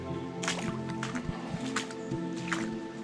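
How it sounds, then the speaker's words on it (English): Splashing footsteps wade through a shallow stream in Ballypatrick Forest, with a few distinct watery squelches and drips spaced irregularly over a low ambient background, close and moderately loud. "I'm going to walk through the water."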